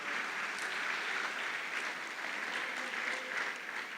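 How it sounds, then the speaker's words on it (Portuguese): A church congregation applauds during a Portuguese-language sermon, producing a steady, even wash of many hands clapping at moderate distance. "Aplauda o Senhor mais uma vez"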